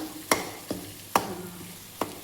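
Peanut chutney frying in a pan over a low gas flame, with four sharp stirring or tapping knocks spaced through a soft, steady sizzle, close and alone.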